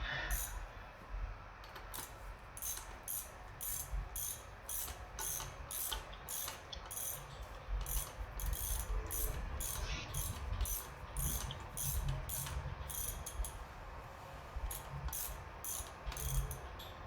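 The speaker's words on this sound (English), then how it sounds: "I'll just install the axle nut here and I'll tighten that down" Ratchet clicking in fast bursts as the axle nut is tightened on a 1970 Harley-Davidson Sportster XLH ironhead under restoration, a steady run of close, sharp pawl clicks over low workshop hum.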